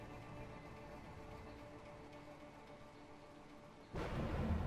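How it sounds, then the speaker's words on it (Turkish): Thunder in the game A Way Out breaks in near the end as a sudden loud low rumble after a quiet stretch of ambient game sound, with no talking. "Gök gürültüsünü bekle, ondan sonra bas."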